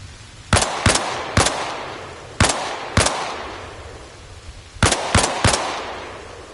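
Sniper rifle shots in Arma Reforger crack out sharp and loud in small clusters, two or three at a time, each followed by a fading echo, with no talk.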